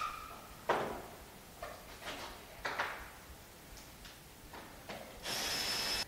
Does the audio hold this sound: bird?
no